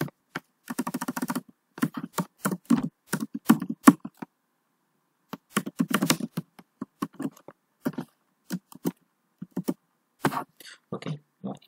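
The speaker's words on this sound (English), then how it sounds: "now if I type here" Fingers type on a computer keyboard in bursts of quick, close keystrokes, with brief silent pauses between runs.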